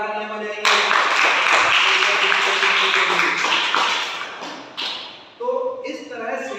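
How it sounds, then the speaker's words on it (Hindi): Applause from an audience at a theatre workshop session on light, sound and stage management, a loud sustained wash of clapping that fades briefly near the end before a second burst, with some voices underneath. "2 लाख तालियां बजाएंगे"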